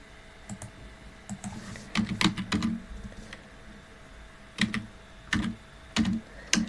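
Irregular bursts of clicking keystrokes on a computer keyboard as a word is typed, some keys struck in quick clusters and others alone, close and clear against a low steady background hum.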